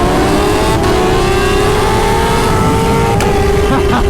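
Kawasaki Ninja H2 motorcycles, around 300 wheel horsepower, accelerate hard in a street race, a loud, steady high-revving engine roar climbing in pitch across the whole stretch, with brief gear-shift breaks.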